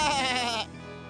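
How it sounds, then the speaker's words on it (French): A cartoon baby sheep stuck in a quarry gives a single loud, wavering bleat that drops into a lower, steadier tail, close and alone. "Un bébé mouton est coincé dans cette carrière et il ne sait pas comment remonter."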